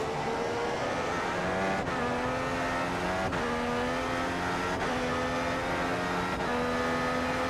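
An F1 race car engine from the F1 2015 game screams at high pitch on a qualifying lap in Malaysia, climbing repeatedly with four sharp gear shifts, steady and loud throughout.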